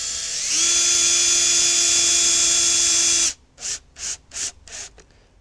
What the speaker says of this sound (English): I'm going to get my cordless screwdriver.